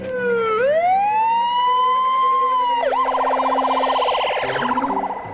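An ambulance siren wails loud and close, a sweeping rising-and-falling tone that shifts into a rapid warbling yelp near the end, with no talk over it.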